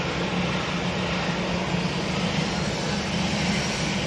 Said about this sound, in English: It's too loud. Planes are too loud.